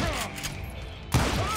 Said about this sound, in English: Well, this is a shotgun.